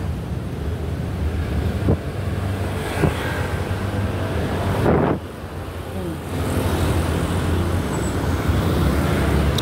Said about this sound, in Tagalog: Marami nang dumadaan dito. Busy ng mga sasakyan dito.